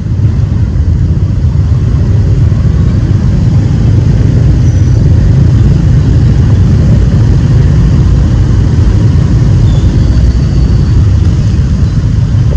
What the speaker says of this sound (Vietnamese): Trời mưa kẹt xe di chuyển rất là khó khăn.